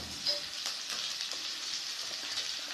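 Tomatoes hitting hot oil in a pan while vada curry is cooked, giving a continuous bright, dense sizzle and crackle with a faint stirring scrape, steady and close, and no talking.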